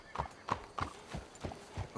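Horse hooves clip-clop in Red Dead Redemption, about six evenly spaced strikes at a steady walking pace, close and clear with a faint whinny.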